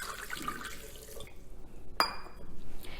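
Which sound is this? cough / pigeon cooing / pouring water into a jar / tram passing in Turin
pouring water into a jar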